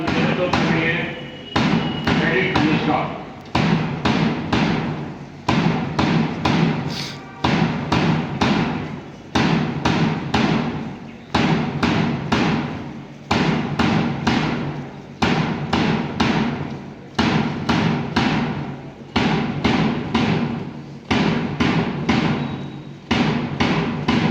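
Cadets stamping boots in unison during a smart drill parade at a college Republic Day ceremony, a long series of loud, sharp synchronized thuds in steady rhythmic bursts, close and dominant.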